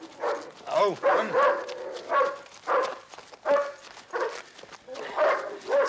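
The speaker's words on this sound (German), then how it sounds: "Sagen Sie doch den Hunden, sie sollen still sein." Tracking dogs on a trail bark and yelp in short, spaced bursts, close by, with people talking between and over the barks.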